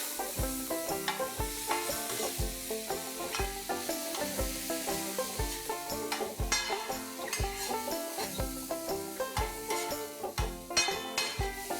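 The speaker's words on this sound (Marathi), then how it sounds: "त्याच्यात आपण 2 टोमॅटो किसून घेतलेले घालून घेऊया" Grated tomatoes cook in a pan with ginger-garlic paste, giving a soft frying sizzle under rhythmic background music with a steady beat.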